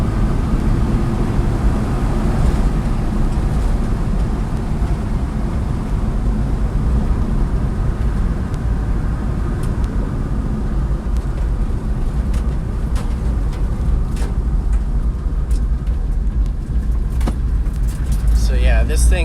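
A 1995 Mitsubishi 4x4 Japanese mini truck with a 5-speed manual drives along with a steady engine drone and road rumble close by, light rattles on top and a brief clatter at the end.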